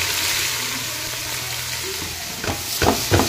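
Finely chopped onion sautés in hot oil with bay leaf, cumin and asafoetida for pav bhaji, a loud continuous sizzling hiss close by, joined near the end by a few scraping stirs of the spatula.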